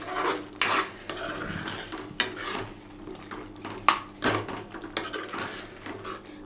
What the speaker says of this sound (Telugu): ఇప్పుడు ఇదంతా ఒకసారి కలిపేసుకుందాం